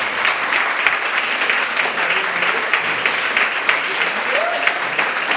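Steady, dense applause fills the hall at an evening plenary meeting, an even wash of many hands clapping with no pause.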